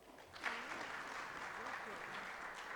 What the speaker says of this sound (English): Can you give them a clap?